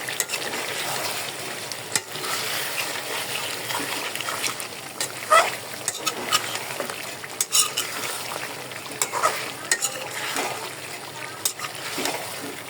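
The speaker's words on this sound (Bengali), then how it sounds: "এখানে আমি আর একটু কষাইয়া ভাজা ভাজা করে তারপর হচ্ছে আমি ঝোল দিয়ে দিব।" Chicken fries in a pan as it is stirred and browned, a soft continuous sizzle broken by scattered spoon scrapes and clinks, close and moderately quiet.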